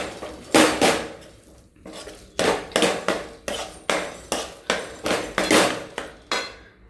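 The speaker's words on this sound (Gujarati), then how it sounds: "સરસ રીતે સાણસીથી પકડી અને આપણે એને મિક્સ કરી દેવાની છે." Tongs repeatedly clank and scrape against a metal pan while food is tossed and mixed, giving about a dozen sharp, close metallic knocks in an uneven rhythm, with no one talking.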